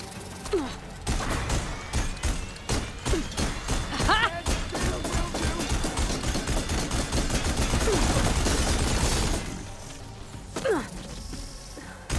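Enemy machine gun fire in a video game, long rapid bursts of sharp repeated shots that grow denser toward the middle and then stop, with brief talk and other effects around it.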